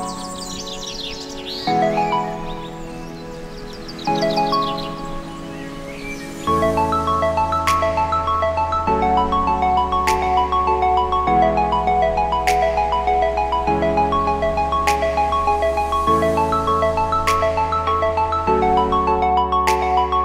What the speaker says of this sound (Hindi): पहले फ़ोन करते हैं अशरफ को।